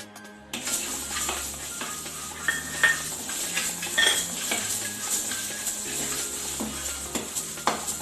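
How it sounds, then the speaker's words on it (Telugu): Fenugreek seeds roast in a dry pan for spice powder, rattling and scraping under a spoon in a steady, close stir with faint crackling throughout. "ఇప్పుడు మెంతులు 2 స్పూన్లు వేసుకొని వేయించుకుందాము."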